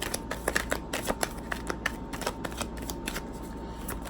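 A deck of tarot cards is shuffled and drawn, giving rapid quiet riffling flicks and snaps in an uneven rhythm, close by and without speech.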